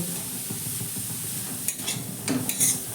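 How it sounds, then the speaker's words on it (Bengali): Carrot and cabbage being stirred in a frying pan: a continuous close sizzle with scraping and a few knocks of the utensil toward the end. "গাজর আর বাঁধাকপিটাকে ভালো করে একটু নাড়াচাড়া করে"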